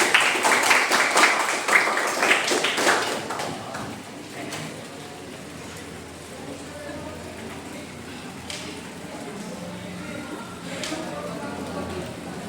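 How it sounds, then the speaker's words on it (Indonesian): Classroom students clap for a new classmate in a short, lively burst lasting about three seconds, then the room settles into a quiet murmur with faint scattered sounds. "Boleh tepuk tangan untuk murid baru."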